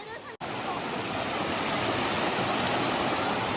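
A hidden waterfall and stream at a trekking spot in Thrissur rush in a steady, dense roar of flowing water that fills the whole clip after a brief cut near the start.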